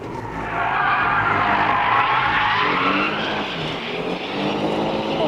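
A rear-wheel-drive Genesis G70 or Kia Stinger drifts with a loud, continuous tire squeal over a roaring engine. The sound holds for several seconds close by, with no talking.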